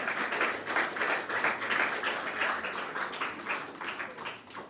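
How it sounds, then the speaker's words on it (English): At a Lions Club schools public speaking competition, a modest audience claps for the participants. Individual claps pulse through the round at a fairly close, moderate level for a few seconds. "A round of applause to all of our participants."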